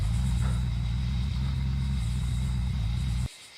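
A car driving in the video game BRM 5, its engine giving a steady, loud, low rumble that runs unbroken and then cuts off abruptly just before the end.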